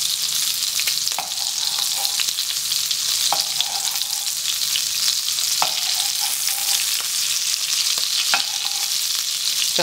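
Beef tournedos steak searing in a pan, a loud, steady close sizzle that runs throughout, with a few faint clicks and no voices.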